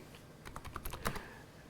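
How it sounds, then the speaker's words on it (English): Keystrokes on a computer keyboard as CMD and ipconfig are entered, a short burst of quick, close clacks clustered in the middle of an otherwise quiet stretch, with no speech over it. "I would go to a command prompt by just typing CMD and just type in ipconfig"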